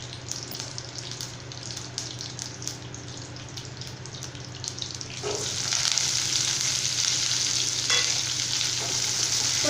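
Shallots, dried chillies and curry leaves sauté in oil with a dense crackling sizzle and quick stirring scrapes. Partway through, the frying swells into a louder, hissing rush that holds steady to the end.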